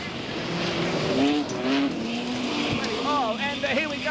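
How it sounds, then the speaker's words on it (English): Modified sedan race cars at Bunbury Speedway, with engines roaring and tires squealing as a car slides into the fence, loud and continuous, while a commentator talks over it. "As the race car has come up against the fence, the caution orders go."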